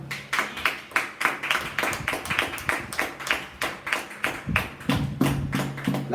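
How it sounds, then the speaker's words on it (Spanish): A church congregation clapping in a steady, even rhythm, about three sharp claps per second, loud and close, with a faint hum underneath and no voices over it. "¡Qué aplauso!"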